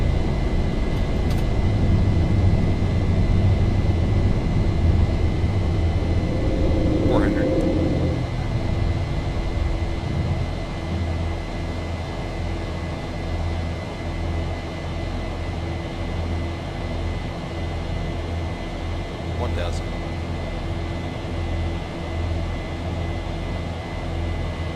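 An airliner's engines roaring during takeoff in the X-Plane 11 flight simulator at LaGuardia, a loud steady rumble that eases slightly partway through as the aircraft climbs, with no voices heard.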